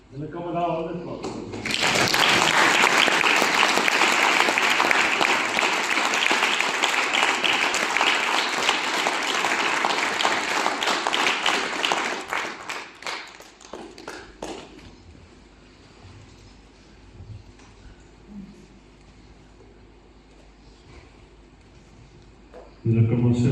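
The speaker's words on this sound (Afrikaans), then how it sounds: "Hulle kan maar daar hande klap." A church congregation applauds with a loud, sustained burst of clapping that lasts about ten seconds, then thins into scattered claps and fades into quiet room sound.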